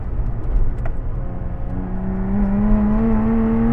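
A Lotus Exige Sport 410 engine on the Anglesey Coastal track drones from inside the cabin, then rises steadily in pitch as the car accelerates hard.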